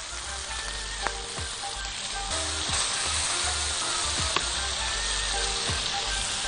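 Lamb ribs searing in a hot pan give a steady, close sizzle, broken by a few sharp clicks and knocks as the pieces are flipped, with no talking.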